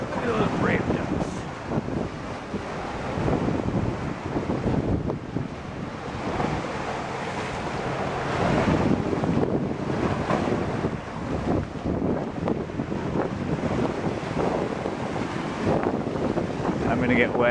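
Stormy wind and surf pounding the shore on Vancouver Island, a constant loud roar of waves with heavy gusts buffeting the microphone for the whole stretch, close and unbroken.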